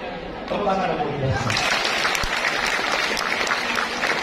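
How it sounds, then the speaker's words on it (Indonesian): Audience applause at a national literacy tour event in Indonesia, starting as a murmur and swelling into dense, steady clapping from a large crowd, with some voices mixed in. "Tepuk tangan dong."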